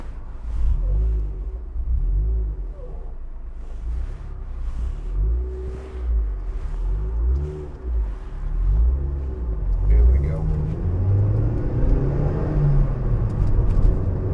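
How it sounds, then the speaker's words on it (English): A Mazda MX-5 1.8 roadster driving with a loud exhaust, its deep, throbbing engine note rising and falling through gear changes, heavy rumble close to the mic alongside wind noise. "Quite a loud exhaust."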